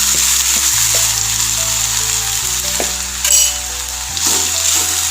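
Fresh spinach (cheera) frying in a pan after the mustard seeds, a loud steady sizzle with stirring and scraping noises, close and continuous, without talk.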